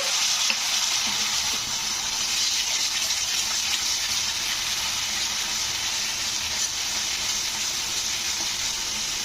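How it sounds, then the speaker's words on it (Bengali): Spice paste with turmeric frying in oil as a little water goes in for a tilapia fish curry, a continuous loud, hissing sizzle that holds steady throughout, with no talking. "এরপরে সামান্য একটু জল দিয়ে দিচ্ছি"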